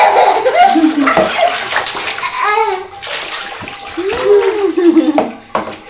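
Water splashes and sloshes in a bath while a young child is washed, with a child's babbling and adult voices talking over the watery movement.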